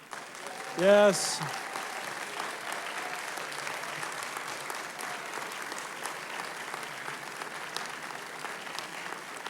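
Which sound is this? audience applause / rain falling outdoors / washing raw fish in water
audience applause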